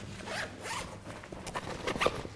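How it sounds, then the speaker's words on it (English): Zipper being pulled open on a Haley Strategic Flatpack Plus backpack, a short close rasping zip of a couple of seconds with a few quick bursts and no talking. "So by opening the other zipper, not that one,"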